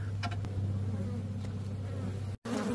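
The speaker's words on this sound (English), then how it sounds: "The bees are coming in through here." Honeybees buzz around a beehive built inside a house, a steady close hum with a few brief fly-bys and a short dropout near the end.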